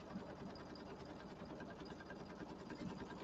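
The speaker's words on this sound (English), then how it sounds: "I just hear the bobbin in there, but that's normal." Embroidery sewing machine running continuously, a steady rapid mechanical chatter with faint rattling from the bobbin, quiet and even throughout.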